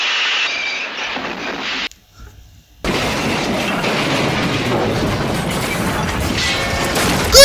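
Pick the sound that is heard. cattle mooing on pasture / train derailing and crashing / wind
train derailing and crashing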